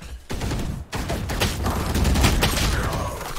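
Gunfire in the Valorant video game, with dense, continuous rattling bursts of rapid shots, loud and close throughout.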